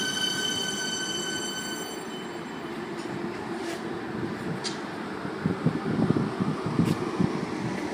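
A Siemens train pulls out of Roxburgh Park station in Melbourne, a steady rumble of wheels and running gear with squealing wheels and a few sharp clanks, growing slightly louder toward the end, with no voices.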